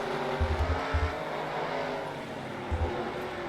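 Race cars in NASCAR Racing 2003 drone steadily at a distance, their engine hum broken by a few low, pulsing surges, with no talk.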